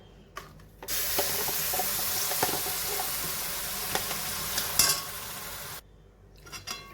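Loud sizzling of a thick mango and coconut mixture in a hot pan with scraping stirring, starting abruptly and cutting off near the end, with no voices.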